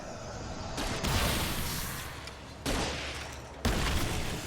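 A flashbang grenade goes off in the video game Alan Wake: three sharp, loud, booming bursts, each followed by a decaying noisy rumble, with no talking.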